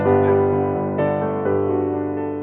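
A sustained synthesized musical tone with rich harmonics from a Scratch project, shifting pitch twice, playing steadily and fairly loud without any voices.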